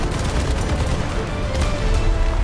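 Tank gun fire in War Thunder from a T95, with dense, loud bursts of shot and rumble running continuously over the whole stretch, no voices.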